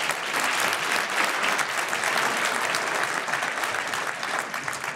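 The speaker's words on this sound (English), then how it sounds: "Let's please give them a round of applause for being here tonight." An audience at the Peak 43 awards show in Boise, honoring Idaho's fastest growing companies, applauds in a steady, even burst of clapping for five seconds, with no voice over it.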